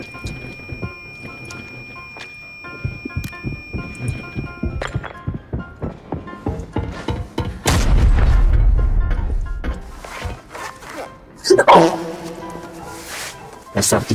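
In a shooting video game, a rapid string of dull thumps and clicks leads into a long, deep explosion boom from bombs thrown at a vault, then a second sharp blast follows, loud and close.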